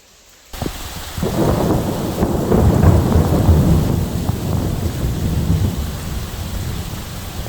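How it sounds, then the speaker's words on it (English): Heavy monsoon rain pours down at a house overgrown by jungle in Pattaya, Thailand, breaking in after a short silence as a loud dense roar, with deep thunder rumbling through it for several seconds. "It's now chucking it down, the complete monsoon rain, and I'm getting absolutely soaked."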